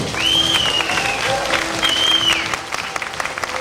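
A crowd at the 1997 Hollywood Show claps enthusiastically in sustained applause, with a couple of sharp whistles cutting through the noise.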